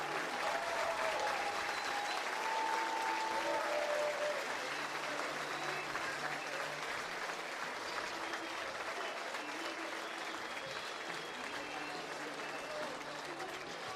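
A college baseball crowd at a Troy vs Little Rock game gives a sustained, rousing round of applause and cheering for a pitcher leaving the mound, steady throughout, with a announcer's voice faintly under it.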